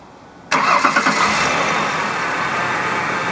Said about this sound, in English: I'm going to go start the car with these attached